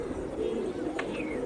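Pigeons cooing softly among a large flock gathered for pigeon fighting, the low murmuring coos steady throughout with a brief chirp near the end.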